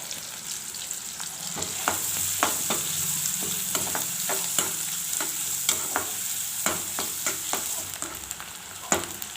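Chopped onions sizzle steadily in a hot pan for a squid gravy, a bright hiss broken by repeated scraping and clinking of a spoon stirring.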